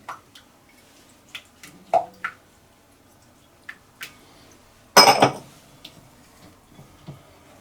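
Egg is stirred into brownie butter cake batter: sparse, quiet clinks of a utensil against the bowl, with a brief, wetter squelch midway in an otherwise quiet kitchen.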